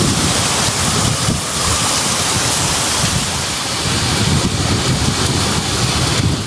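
Heavy summer rain pours in Karur, Tamil Nadu, a dense, steady roar of broadband hiss like water rushing and falling hard, loud and close without pause, and no voices over it.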